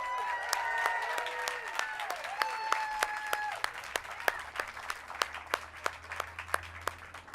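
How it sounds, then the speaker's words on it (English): An outdoor crowd claps at a Hollywood Walk of Fame star ceremony for the Lettermen, a steady sustained round of applause with voices calling out early on. "Let's give them a big round of applause."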